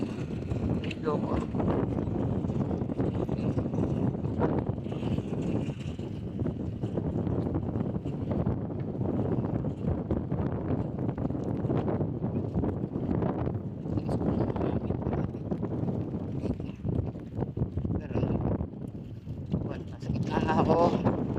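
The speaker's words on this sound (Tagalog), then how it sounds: "Hangin po." Strong wind buffets the microphone in loud, continuous gusts, with people talking and exclaiming underneath the roar.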